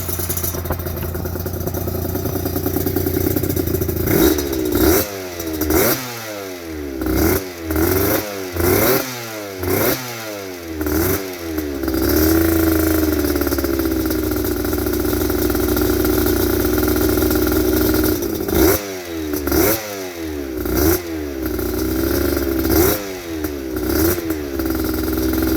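A 1991 Suzuki RGV 250 VJ22 two-stroke motorcycle engine idling close up, then blipped in a rapid series of sharp revs, settling back to idle before another burst of throttle blips.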